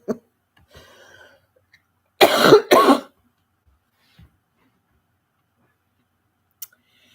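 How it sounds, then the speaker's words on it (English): A person coughs twice in quick succession, close and fairly loud, with a faint throat sound before and near-silence around it. "I'm starting to stir up my cough"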